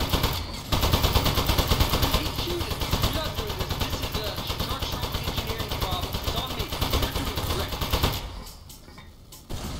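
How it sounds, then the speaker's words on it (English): Continuous rapid Uzi gunfire in the video game Aperture Desk Job, a dense loud rattling burst lasting several seconds before cutting out, with a voice talking over it. "Let's get that Uzi going."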